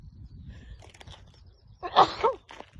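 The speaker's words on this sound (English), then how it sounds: "I'm going to sneeze" A single sharp sneeze from a person out on a sunny coastal cliff-top walking path, bursting out loudly after a stretch of quiet breathing and footsteps.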